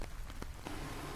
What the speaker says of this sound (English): Foley number 2, me recording me going for a walk in the forest in the rain.